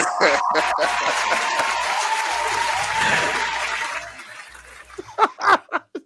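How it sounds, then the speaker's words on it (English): Loud crowd applause with cheering from a live audience at a hip-hop mixshow, sustained for about four seconds, then dying away as voices talk over the tail end. "Round of applause for I'm Beyonce"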